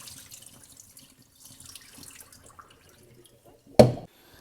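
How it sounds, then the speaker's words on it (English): Tap water runs briefly over cherries being rinsed in plain water, a short, close splashing burst after near silence. "we're gonna rinse it one more time with just plain water"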